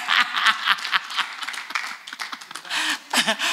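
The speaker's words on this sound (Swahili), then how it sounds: "Wewe mpigeni makofi jamani mchungaji." A church congregation breaking into applause, dense clapping from many hands that swells and dips, with scattered chuckles among the crowd.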